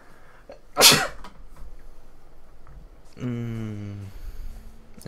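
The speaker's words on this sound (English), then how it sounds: "I gotta sneeze." A single sharp, loud human sneeze bursts out near the start, followed by quieter breathing and then a sustained tonal sound later in the clip.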